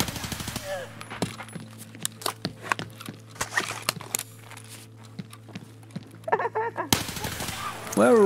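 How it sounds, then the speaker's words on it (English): G36 rifle gunfire in Escape From Tarkov: sharp single shots and short rapid bursts crack repeatedly over a steady low hum, with scattered footstep-like clatter and a voice talking between shots. "I did get some cool footage of the G36 in action"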